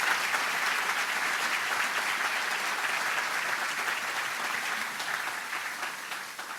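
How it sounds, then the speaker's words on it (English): An audience at a university press event introducing a new men's basketball coach breaks into steady, dense applause that holds strong before slowly tapering near the end, with no voices over it. "Give them a round of applause"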